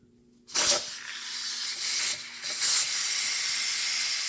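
Steam blasts loudly from the release valve of a Power Pressure Cooker XL cooking BBQ pork spareribs, starting abruptly and hissing continuously with a few surging swells.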